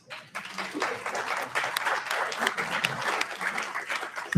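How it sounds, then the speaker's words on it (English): A standing audience at an annual fundraiser gives a round of applause, many hands clapping in a full, moderately loud burst that swells quickly after a brief quiet start and holds steady. "round of applause."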